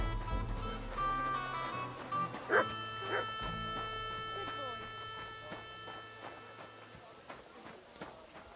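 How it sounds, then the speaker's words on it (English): Mutt, the dog in Kingdom Come Deliverance 2, gives a few sharp barks and a low growl in the middle distance, mixed with game ambience and someone talking over it. "Come on, Mutt. Don't be rude. Growling at people."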